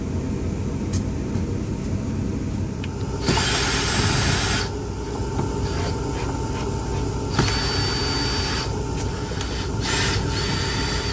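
A power drill backs screws out of a window frame inside a Country Coach motorhome, sounding as short, loud whirring bursts that come and go over a constant background hum.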